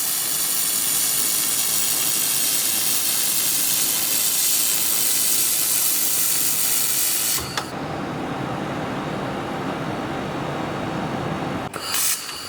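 A handheld laser welding machine stitch-welds two metal pieces with a loud, continuous hissing rush that drops sharply in level partway through and then carries on more quietly, with no talking.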